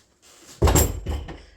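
A folding bathroom door at a front entry is folded closed, giving a close thudding knock followed by a softer second bump and a brief rattle.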